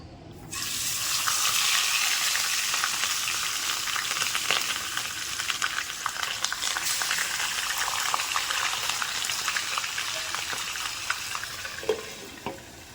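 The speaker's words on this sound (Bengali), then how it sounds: "আমার তেল গরম হয়ে গেছে এবার আমি মাছটা এর মধ্যে দিয়ে দেবো" Whole hilsa fish sizzles loudly in hot oil, a steady crackling hiss that starts abruptly and carries on, easing slightly toward the end.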